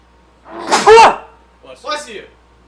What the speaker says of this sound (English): I've been sneezing a lot today.